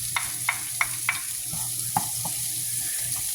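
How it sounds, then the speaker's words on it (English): Chopped red onion going into a hot pan for keto taquitos, giving a steady close sizzle of frying with a few light scraping and stirring clicks on top. "And I'm going to put the red onion in."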